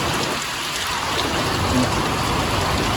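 Heavy monsoon rain pouring steadily in Patan, Gujarat, a dense, even hiss of drops on surfaces filling the whole scene without pause, fairly loud and close.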